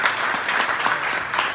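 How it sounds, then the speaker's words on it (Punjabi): Audience applause at an academy ceremony honouring coaches and volunteers, a brief steady patter of many hands clapping at moderate volume. "ਜੋੜਾ ਤਾੜੀਆਂ ਇਕਰਾਰ ਸਿੰਘ ਉੱਬੀ ਲਈ ਪਲੀਜ਼,"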